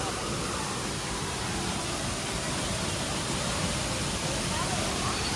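Rushing water of Palaruvi waterfall in Kerala, a loud, steady, unbroken roar of falling water with no let-up and no audible talk.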